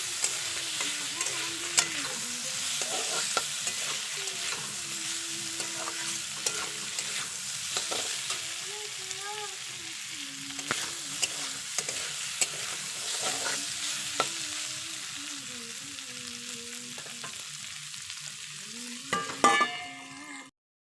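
Chicken sautéing in a pan sizzles continuously while a utensil scrapes and stirs it at a fairly even pace, ending in a short clatter and then quiet; nobody speaks.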